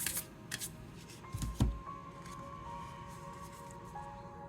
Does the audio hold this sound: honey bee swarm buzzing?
no